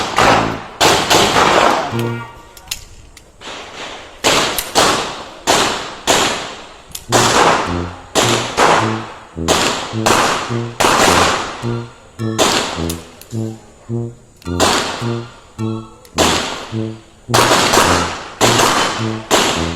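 Firecrackers going off in a fast, loud string of sharp bangs, dozens of cracks in uneven bursts with short gaps, close and dominating, no talking.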